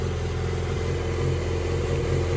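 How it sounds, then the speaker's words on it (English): A Yamaha R6 motorcycle engine idles steadily in a garage, a continuous low, even rumble with no revving, close and alone without talk. "you want to get the motorcycle started and let it come up to temperature"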